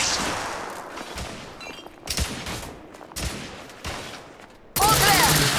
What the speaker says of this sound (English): Igraine, lay down suppressive fire!